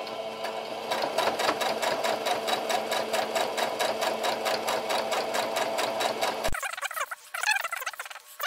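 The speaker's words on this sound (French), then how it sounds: "je vais coudre assez près du bord et je vais commencer pratiquement là où" A sewing machine stitches near the edge of a homemade fabric face mask, a fast, even mechanical chatter up close that stops abruptly, followed by a few softer handling clicks.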